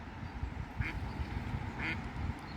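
A duck quacks a few times, faint and somewhat distant, with short nasal calls standing out over a low background rumble.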